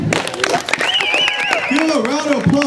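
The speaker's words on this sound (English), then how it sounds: "Give a round of applause to our wonderful new lovers" Audience applause at a live comedy show, with clapping and cheering spread through a crowd, loud and close, while excited voices whoop and call out over it.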